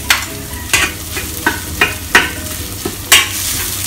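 Chilli and aromatics sizzle and are stirred in a wok for Singapore chilli crab, loud steady frying with regular scraping strokes of the spatula roughly every half second.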